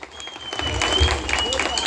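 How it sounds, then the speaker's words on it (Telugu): Applause from an audience at a village gathering, starting thin and swelling into a steady, fairly close wash of many hands. It keeps building toward the end, with some crowd noise mixed in. "ఇది అందరూ చప్పట్లు కొట్టండి ఒకసారి"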